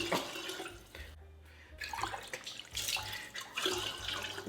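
Lemonade is poured into a rum runner cocktail as a soft, close splashing trickle in a quiet room, with a brief pause partway through.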